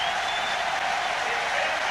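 A packed athletics stadium crowd in Zurich on its feet cheering Haile Gebrselassie's 5000 m world record run, a steady loud roar of applause and cheering with no break.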